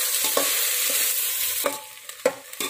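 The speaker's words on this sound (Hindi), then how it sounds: "तो फ्रेंड्स चावल को अच्छे से भून लीजिए जीरा में" Rice frying in ghee with cumin seeds, stirred with a spoon, giving a steady close sizzle broken by several sharp scraping and clinking strokes against the pan, heaviest toward the end.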